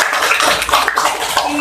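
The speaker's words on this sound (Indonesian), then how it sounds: "Iya, tepuk tangan untuk Risti." A classroom of children claps for a student, a short burst of dense, close applause mixed with voices.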